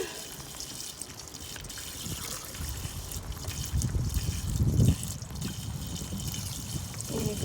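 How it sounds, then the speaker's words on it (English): Heavy rain pours outdoors, a continuous close hiss of falling water with swelling gusts and splashing, fairly loud and unbroken for several seconds. "it is raining like crazy here"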